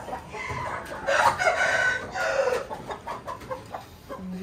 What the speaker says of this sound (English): It's a beautiful chicken.